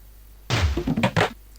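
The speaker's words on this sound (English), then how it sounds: "The object thuds into place within the cavity of the ship." An object thuds into place inside the cavity of a spaceship in the PC game Space Quest III, a short burst of heavy clunks and thumps following brief quiet, loud and close, with no voices.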